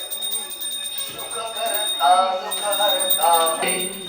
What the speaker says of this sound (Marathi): आपण घंटी वाजवून या आठवडे व्हायचंय